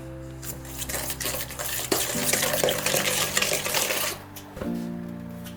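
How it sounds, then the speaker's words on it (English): Sauce stirred together with a pack of ramen seasoning for bibim ramyeon, a steady run of wet scraping and clinking of a utensil against the bowl, close and continuous with a brief pause near the end. "1 pack of ramen seasoning. Mix them up"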